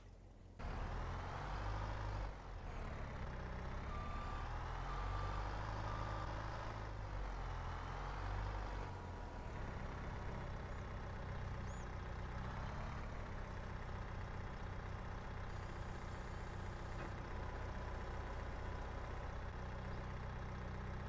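A flatbed truck in Farming Simulator 22 idles and reverses, its heavy diesel engine droning steadily and loudly with shifting revs and a brief air-brake hiss, with no talk.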